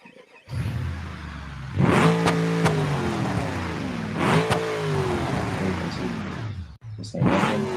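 A custom-built 4x4 Marauder engine revving off-road, rising and falling in pitch through repeated gear changes, loud and close, with a sharp cut near the end before picking up again.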